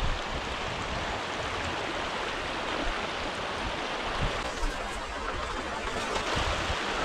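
A fast-flowing river current rushes steadily and loudly in an outdoor setting where a cast net is being thrown, a continuous broadband wash of water.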